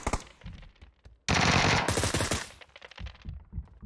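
Rapid automatic fire from a suppressed Beryl rifle in a shooter video game, a dense loud burst lasting over a second, surrounded by scattered sharper shots and in-game clatter.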